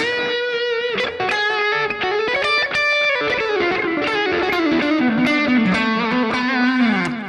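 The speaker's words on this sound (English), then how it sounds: "Or some extra distortion if I like to. Always goes well with the delay." Electric guitar played through a Digitech RP355 multi-effects pedal with distortion and delay, sustained gritty notes and chords ringing into one another, loud and continuous with no talking.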